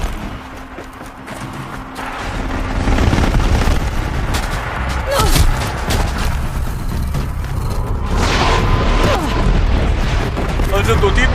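Missiles slam into Aloy in a video game, a continuous dense wash of booming explosions and gunfire-like blasts under steady combat noise, loud and sustained throughout.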